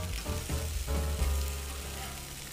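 Onion, tomato and mushrooms sizzle on a Camp Chef flat-top griddle: a steady, close frying hiss with a low rumble underneath that holds fairly constant from start to finish.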